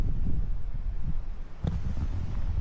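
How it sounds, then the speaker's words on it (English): Steady low wind rumbling and buffeting close to the microphone in Kalbarri National Park, Australia, a continuous outdoor gusting with a brief sharper knock partway through. "A bit windy"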